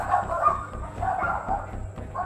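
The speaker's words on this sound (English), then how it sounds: "The neighborhood dogs start barking as he continues to holler" Several neighborhood dogs bark and yip repeatedly at night, a dense overlapping chorus at moderate distance with a steady rhythm and no clear talk.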